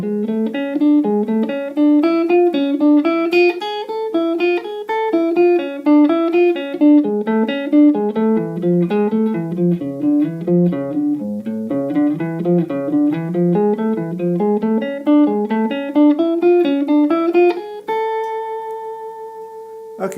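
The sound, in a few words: scale exercise played in groups of three notes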